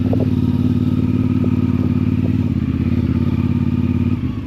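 A trail motorcycle labours through mud on a countryside track, its engine droning loud and close with a steady throbbing note and some clattering and thumps, easing off near the end.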